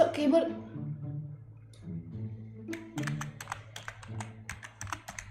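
Computer keyboard keys clatter in quick, irregular bursts of sharp clicks, heard close after a stretch of talking at the start.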